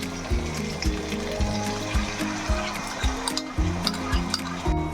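Sour yogurt going into chicken korma in a hot pan gives a steady sizzle, with repeated scraping stirs in a regular rhythm, close and fairly loud, no talking.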